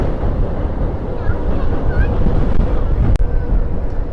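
Strong night wind buffeting a microphone on the Pamban bridge at Rameswaram, a loud continuous rushing roar with low gusty rumble, plus a brief sharp knock near the end.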